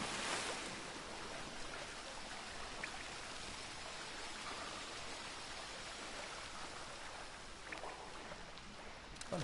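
Water in The Witcher 3 at Kaer Morhen, a continuous broad rushing and splashing wash, steady and fairly faint, with a few brief splashes and no talk.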